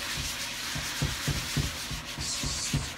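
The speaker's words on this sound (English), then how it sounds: "we're gonna take the crappy dingy sponge, scrubby side," A scrubby sponge rubs back and forth over smoke-stained plastic, giving a steady rasping scour with repeated stroke accents about every half second, close and alone.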